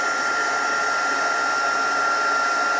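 Stampin' Up heat tool for card making, running steadily with a loud, close, even whooshing hiss of blown hot air throughout, no talk.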